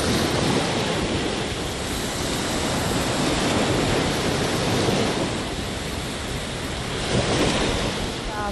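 Waves washing onto L'Espiguette, a natural sandy beach on the Mediterranean coast at Le Grau-du-Roi, as a continuous broad roar of surf mixed with wind buffeting the microphone, steady throughout with a slight swell near the end.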